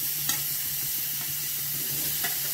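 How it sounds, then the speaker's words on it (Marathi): Onion and garlic sizzle in hot oil as they are stirred, a steady hiss of frying with a few soft scraping strokes of the spoon, close and fairly quiet, no talking. "तेल गरम झालं, लसूण टाकले. आता कांदा टाकणार,"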